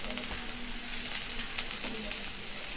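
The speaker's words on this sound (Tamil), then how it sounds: "இது எல்லாத்தையும் இந்த பேன்லேயே வந்து இதில் இருக்க ஆயில்லையே அப்படியே வந்து லைட்டாக ஃப்ரை பண்ணி எடுத்துக்கலாம்." Carrot, cabbage and capsicum fry lightly in oil in a pan for a veg frankie roll filling, giving a steady close sizzle with faint stirring scrapes and no talk.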